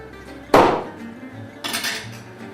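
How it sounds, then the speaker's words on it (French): A butcher cuts through a rack of lamb in two sharp strikes: a loud chop, then a second, softer cut about a second later, with no talk. "sur un carré d'agneau, vous voyez, découper le carré"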